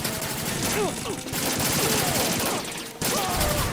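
Bursts of rapid gunfire rattle through a firefight in Metal Gear Solid 2, loud and dense with short gaps between volleys and faint game sounds underneath.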